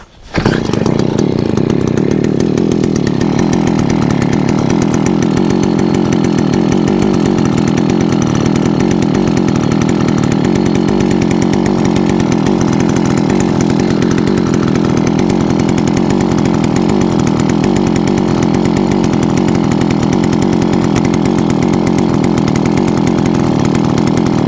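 Gas-powered engine of a fence post auger running steadily and loudly up close, with a harsh buzzing drone like a chainsaw that holds continuously after starting, with no talking.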